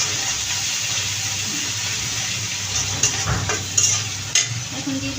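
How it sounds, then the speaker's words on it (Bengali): Prawns fry with lightly browned onion in a pan, giving a continuous sizzle close by, with a few sharp scraping stirs near the end. "চিংড়ি মাছটা দিয়ে একটু ভাজা করে নেব।"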